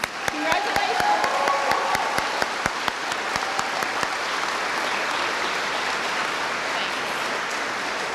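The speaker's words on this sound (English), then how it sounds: "Please join me in giving him a round of applause." At a high school academic banquet, an audience applauds. Crisp individual claps stand out at first, then blend into a steady, sustained roar of clapping from a large crowd, with faint voices mixed in.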